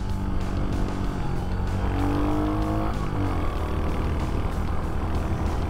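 A Royal Enfield Hunter 350 motorcycle engine runs steadily up close while riding, its low, throbbing exhaust note holding constant, with a few rising and falling pitch shifts as the throttle eases on and off during braking.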